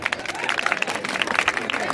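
Audience applause at a school award ceremony, a dense patter of many hands clapping at moderate volume with some voices underneath.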